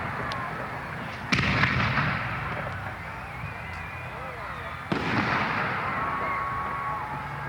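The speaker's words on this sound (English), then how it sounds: "On the last day, there is a fireworks display over the Bedford Basin." Fireworks burst over the Bedford Basin in Nova Scotia at a summer festival, two loud booming explosions a few seconds apart, each followed by crackling, fizzing trails and a lingering rumble.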